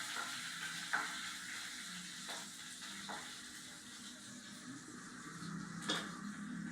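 Onions frying in oil in a pan for a taro curry, giving a steady close sizzle throughout with a few light stirring knocks and scrapes over it, no voices.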